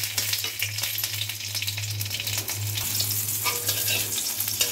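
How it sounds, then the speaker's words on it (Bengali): Black cumin and slit green chilies fry in hot mustard oil, giving a steady, close sizzle with crackling spits over a constant low hum and no talk. "এবার এর মধ্যে ফোড়নে আমি কালো জিরে আর চেরা কাঁচা লঙ্কাটা দিয়ে দিচ্ছি।"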